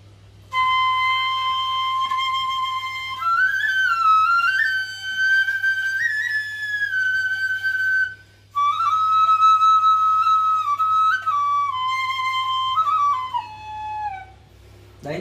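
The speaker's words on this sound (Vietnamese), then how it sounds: "Đấy là âm thanh của cây sáo ngang." Solo melody on a Vietnamese transverse bamboo flute (sáo ngang), bright breathy tones with bending ornaments and trills, played close and loud in two phrases with a short pause between.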